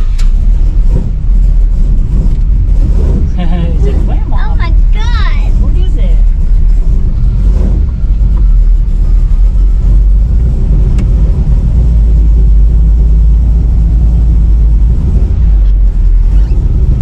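A car engine rumbles steadily while driving, a loud, close low drone throughout with people talking over it.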